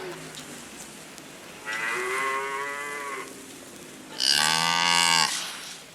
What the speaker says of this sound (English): cows are again allowed to graze on the common, and their mournful moos mingle with the din of distant traffic